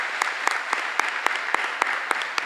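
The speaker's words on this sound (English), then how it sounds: "let's give them a round of applause" Applause at an 8th-grade recognition awards day at a middle school, with sharp individual claps standing out at an uneven rhythm over a steady bed of clapping from a moderate crowd.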